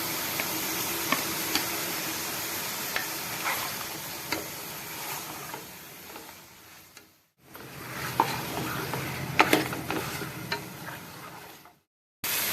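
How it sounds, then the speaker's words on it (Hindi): Mutton frying in a spice masala with green chillies for pulao, a loud close sizzle with repeated clinks and scrapes of stirring, briefly cutting out twice, with no talking. "गोश्त को अच्छी तरीके से इस मसाले में भूनेंगे"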